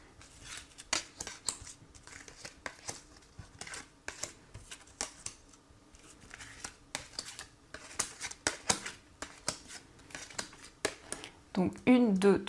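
Tarot cards being shuffled for a card reading, repeated crisp papery riffles and slaps in irregular bursts, close and fairly quiet, with a few louder handling clicks near the end.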